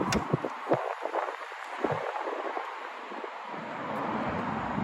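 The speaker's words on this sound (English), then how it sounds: "if you're hearing a bit of wind noise, I do apologise for that" Wind buffets an outdoor microphone beside a 2015 Mercedes E63 AMG, a continuous low rumble with uneven gusts and thumps, alone and without talking.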